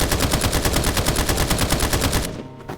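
Rapid automatic fire from the MF gun in Escape from Duckov, a fast, evenly spaced stream of loud shots that stops abruptly near the end.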